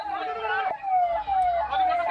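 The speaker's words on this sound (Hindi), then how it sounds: "एम्बुलेंस की आवाज आप सुन पा रहे" A loud ambulance siren wails in long descending sweeps, close and continuous for the whole stretch, at the scene of a plane crash in Kozhikode, Kerala.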